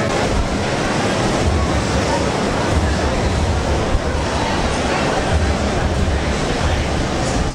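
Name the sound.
strong wind at the beach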